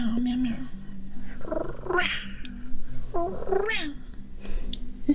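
A person imitates a cat, giving several drawn-out meows in a row, loud and close, with rising and falling pitch.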